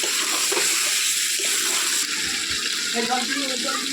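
Water is poured into a cooking pot of chicken and potatoes, giving a steady, loud splashing rush that runs without a break across the whole stretch.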